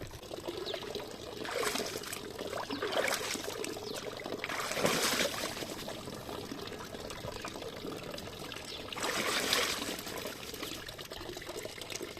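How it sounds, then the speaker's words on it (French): Water trickling and splashing at a forest water point while hands are washed, close and moderately loud, swelling into heavier bursts of splashing now and then over a constant background trickle, with no talking. "il y a un point d'eau là, je vais me laver les mains"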